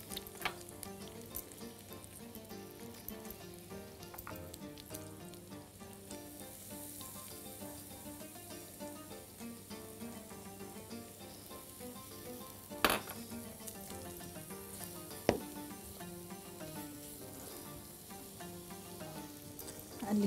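Slices and cubes of meat frying in a pan, a steady, fairly quiet sizzle that runs throughout, with a couple of sharp utensil clinks later on and a faint tonal hum underneath.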